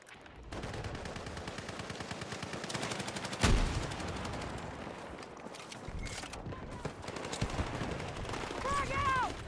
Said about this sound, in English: Okay, that's a submachine gun.